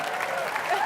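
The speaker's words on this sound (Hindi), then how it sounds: "तालियां हो जाएं जॉनी लीवर के लिए।" Studio audience applauding a comedian on a televised Hindi entertainment show, a steady dense wash of clapping that stays loud and even throughout the short moment.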